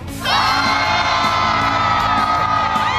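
A big crowd in Texas roars with whoops, yells and children's shouts in a loud, sustained burst of cheering and greeting that stays steady to the end.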